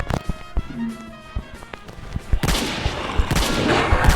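Rapid bursts of gunfire in the Roblox game Area 51 crackle through dense noise, growing into a steady barrage of overlapping shots toward the end.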